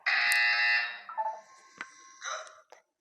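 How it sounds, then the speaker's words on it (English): A loud electronic buzzer in the Portal 2 video game, a harsh sustained tone for nearly a second followed by scattered shorter electronic blips and tones. "When you hear the buzzer, look down at the floor."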